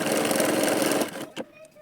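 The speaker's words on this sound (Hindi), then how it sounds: "तो चलिए इसकी सिलाई करते हैं।" A sewing machine stitches a blouse belt in a dense, rapid mechanical whir that runs for about a second, then stops, leaving a few faint clicks and handling sounds.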